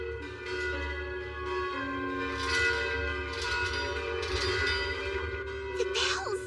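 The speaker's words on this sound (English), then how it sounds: "I can hear the alarm bells ringing" Bells clang continuously in an animated fantasy kingdom, sounding the alarm as gates and shops close against invading animals, with a low rumbling bed beneath and a steady, ringing metallic texture throughout.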